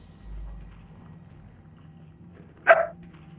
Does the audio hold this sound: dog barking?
yes